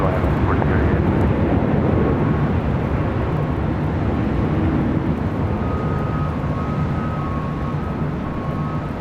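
A heavy Boeing 777 landing on runway 24 right at LAX, heard as a loud, steady, broadband roar of jet engines that stays constant from start to finish, with radio chatter running underneath.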